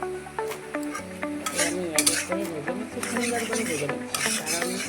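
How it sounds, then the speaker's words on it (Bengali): Soybean chunks and potatoes frying with spices in a pan for a vegetarian curry, a steady sizzle with scraping stirs and metallic utensil clinks, while someone talks over it. "সবগুলাই দেওয়ার পরে এখন আমি ভেজে নিচ্ছি"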